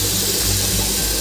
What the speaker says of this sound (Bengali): এবার পোস্ত যে বাটিটায় রেখেছিলাম সেই বাটিটা ধুয়ে একটু সামান্য জল দিয়ে দেবো।